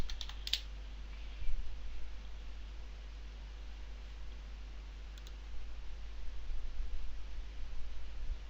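Faint keyboard typing as a password is entered on a computer, with a few quick key clicks near the start and light tapping later, over a steady low hum.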